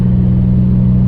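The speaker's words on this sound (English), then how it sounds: "Got it started and it was running" A car engine just started and running, a steady low hum with a constant droning tone and no break, close by.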